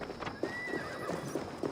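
Horse sounds in Assassin's Creed Valhalla, a fairly faint whinny with steady clip-clopping hooves at a measured rhythm over a quiet game backdrop.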